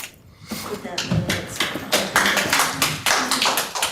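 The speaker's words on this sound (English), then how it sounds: "Please, no more applause." A small crowd at a city council meeting claps steadily, the sharp overlapping claps forming a continuous patter close by.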